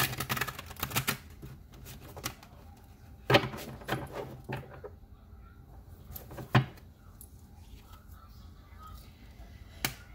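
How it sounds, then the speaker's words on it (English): Tarot cards being shuffled by hand, giving a quiet run of papery riffles and taps with sharper snaps at a few points, close and fairly faint, with no talking. "One more shuffle."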